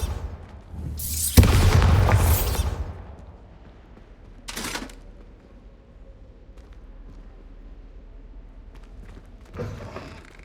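The Bombarda spell in Hogwarts Legacy bursts with a loud, booming explosion and a crackling rumble lasting about a second. A smaller blast follows a few seconds later, then a faint one near the end.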